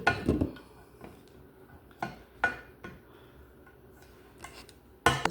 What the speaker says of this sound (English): we're going to spread it over the bottom of the pan so the noodles don't stick